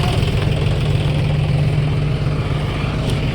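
A tractor engine idles steadily in a potato field, a loud, constant low rumble with an even throb that holds unchanged throughout, no voices over it.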